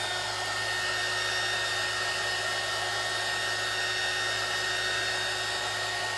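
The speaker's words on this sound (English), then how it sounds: "Now we're going to take our dryer one more time and pull these over to us" A hair dryer, used to dry a faux deer skin craft sign, blows continuously with a steady, loud whooshing roar and a faint motor whine, unchanging throughout.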